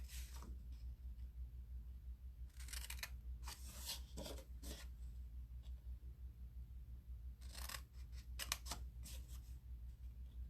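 Snips cut paper up to a score line for a long gift box, heard as short clusters of crisp snipping in two bursts. The cutting is faint and close, with no talking.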